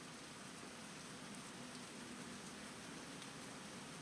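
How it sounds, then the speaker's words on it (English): Heavy rain falls outside during a drawing session, a steady, even hiss of drops that stays constant and fairly faint throughout, with no talking. "That rain is so loud."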